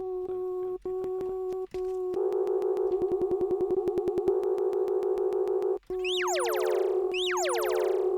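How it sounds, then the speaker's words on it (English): Synth keyboard notes in a techno track, a sustained tone with a fast pulsing repeated note, then rising and falling pitch-swept boing-like notes, loud and alone with no talk. "I'm just playing on my keyboard."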